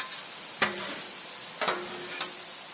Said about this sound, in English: Give our vegetables a stir over here.